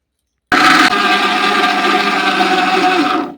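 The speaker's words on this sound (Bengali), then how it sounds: "আবারও একইভাবে পেশাই করে নিচ্ছি" An electric grinder pulverising mustard seeds for homemade oil, starting abruptly and running as a loud, steady whirring grind for about three seconds before cutting off.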